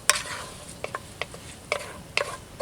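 A spoon stirring red beans and rice in a Dutch oven over an open fire, several short scraping strokes at irregular intervals over a faint background hiss, close and moderately quiet.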